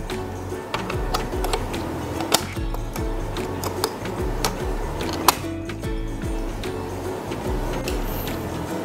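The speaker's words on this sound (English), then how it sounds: "It has a stable printer." Busy mechanical printing noise from a Zoncare IMAC300 ECG machine's printer, rapid ticks and clicks, steady and close, a few louder clacks standing out.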